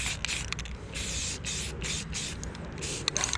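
Spray paint hisses in a run of short bursts and longer passes as a minibike chassis frame is coated, steady and close throughout.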